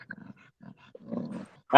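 Dogs make a few soft, low growling grunts in short bursts, fairly quiet and close, ending with a sudden louder noise.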